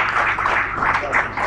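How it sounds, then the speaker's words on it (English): A live assembly audience applauds the keynote speaker, dense steady clapping sustained throughout the brief moment, fairly close and loud. "Please give him a round of applause to encourage him."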